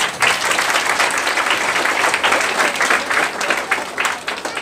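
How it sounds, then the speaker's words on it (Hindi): Congregation applauding at a Hindi Christian wedding ceremony, steady dense clapping from many hands filling the room for several seconds, fairly loud and continuous with no pause. "इस मंडली के बीच में ताली बजाएं"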